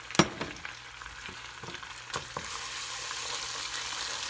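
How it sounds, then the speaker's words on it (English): Caramel popcorn syrup bubbling in a pan after baking soda goes in, a soft sizzling hiss that thickens into a steady fizz, with a few sharp clicks of a utensil stirring early on; fairly quiet, no talking. "Mix it very well."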